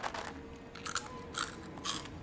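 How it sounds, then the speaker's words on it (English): Cereal being eaten close to a microphone, with dry crunching bites followed by chewing, in four or five distinct crunchy bursts separated by brief quieter gaps. "I'm just about to eat a few pieces of cereal."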